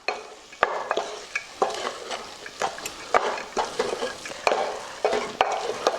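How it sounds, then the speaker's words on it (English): Masalas with salt stirred in a sizzling pan for aloo matar, a punjabi potato-pea curry: rhythmic scraping strokes of a spatula repeat over a continuous frying hiss, close and clear, no voices. "And give it a nice stir. Let the masalas get mixed in."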